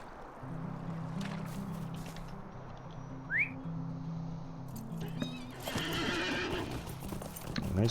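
Horse hooves clip-clop in a steady rhythmic gait in the LOTRO video game, joined by a whinny and a brief whistle-like chirp, with a louder burst of clattering near the end.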